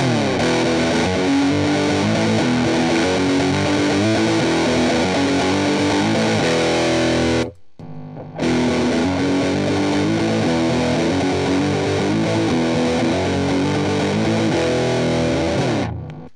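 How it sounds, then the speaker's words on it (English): Heavily distorted fuzz tone from a Big Muff fuzz pedal at full distortion, thick and saturated, sustaining loudly with a brief gap before ringing out again. "Now let's put the distortion levels up full."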